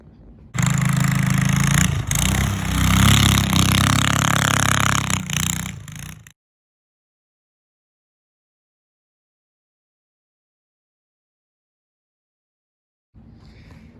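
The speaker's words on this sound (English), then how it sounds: "the most complicated thing I've rebuilt, which would be a small mini bike which runs a Predator" A small mini bike's Predator engine running loudly up close for about six seconds with a rough, throbbing drone, then abrupt silence before a faint return at the very end.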